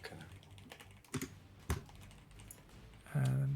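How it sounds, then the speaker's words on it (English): Keys tapped on a computer keyboard during a StarCraft 2 hotkey session, a few scattered clicks followed by a louder burst of keystrokes at the end, close and alone without talk. "And let me know when you've finished typing that."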